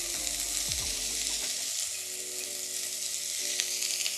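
Vegetables for a spinach, fennel and asparagus soup sizzle in a pot, a steady close hiss with brief stirring scrapes and a low hum that fades partway through; nobody speaks.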